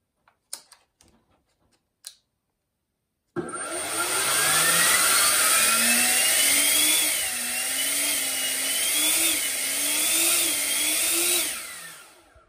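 A 6 kW RC Blade 2 model helicopter motor on a test run. A few sharp clicks and a pause come first, then a loud whining spin-up with warbling pitch as the motor revs up and down for about eight seconds before winding down.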